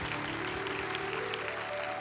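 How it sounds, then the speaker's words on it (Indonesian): Audience applause on a TV show stage, a steady, fairly quiet patter of clapping held evenly throughout, with a faint sustained tone beneath it. "Tepuk tangan dulu dong untuk Rosella dari Malang."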